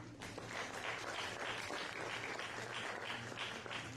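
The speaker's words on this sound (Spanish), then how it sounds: "Un aplauso, por favor." An audience at a panel discussion with women journalists breaks into applause, a dense, even wash of many hands clapping that holds steady and fairly quiet throughout, with no voices over it.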